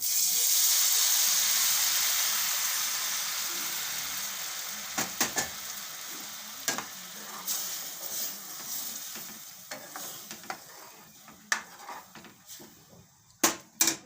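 Drumstick soup hits a hot ginger tempering, a loud steamy hiss that gradually dies down, followed by scattered clinks and taps of a spoon stirring in the pot.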